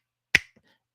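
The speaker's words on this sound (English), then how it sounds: "There are these finger snaps, and they're too loud." A single crisp finger snap stands out sharply in a song's mix, loud and dry, followed by a faint trailing echo.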